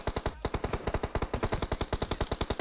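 Automatic gunfire in PUBG Mobile: a loud, steady, rapid string of evenly spaced shots running for about two and a half seconds, close and dominant with no voices over it.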